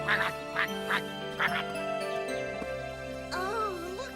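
Cartoon duck quacking in a series of short, bright quacks spaced roughly half a second apart, followed by a warbling call, over a soft musical bed with a light tinkle.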